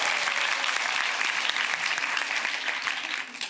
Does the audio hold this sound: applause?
yes